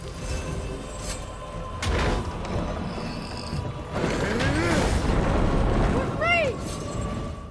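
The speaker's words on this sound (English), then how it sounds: "Oh, there's an exploder." An exploder enemy in the God of War video game bursts amid dense combat noise, with a couple of loud broadband blasts surging over steady rumbling, metallic creaks and clatter, and short rising chirps near the end.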